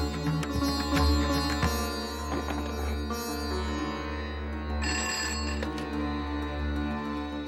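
A telephone rings with repeated electronic trilling bursts over a humming, musical background, fairly close and steady.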